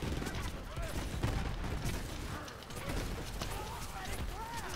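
Rapid gunfire in Borderlands 3 from a Zane build using the Maggie pistol, a dense continuous barrage of shots layered with game effects and talk throughout.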